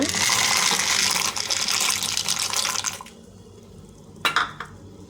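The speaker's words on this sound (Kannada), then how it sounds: "ಈ ಕುದಿಯೋ ನೀರಿಗೇನೆ ಇವಾಗ ನಾವು ಪಾಸ್ತಾನ ಹಾಕ್ಕೊಳ್ಳೋಣ" Dry pasta tipped into a pot of boiling water, a loud close gush and bubbling churn for about three seconds that then drops away, followed by one brief splash or clatter.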